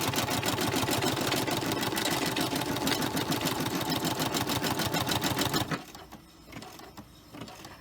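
Embroidery machine stitching an in-the-hoop purse charm through thick layers, a loud, steady rapid needle clatter with a motor whine that stops abruptly near the end, leaving faint room noise.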